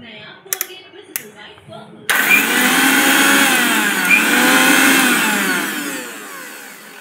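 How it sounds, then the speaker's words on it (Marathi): A kitchen mixer grinder runs at high speed on green chilli, ginger, garlic, coriander and cumin, a loud continuous whir that starts abruptly after a few light clicks and fades slightly toward the end. "मिक्सरला वाटून घ्यायचं"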